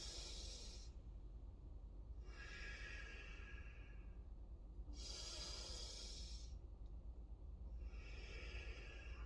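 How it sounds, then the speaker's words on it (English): Nasal breathing during a seated wheelchair fitness exercise: airy, hissing breaths pulse in a slow, steady rhythm, each inhale or exhale lasting a couple of seconds, close and moderately soft over a low background rumble. "all the breathing is being done with my nose"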